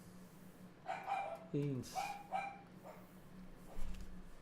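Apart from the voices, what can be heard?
dog barking excitedly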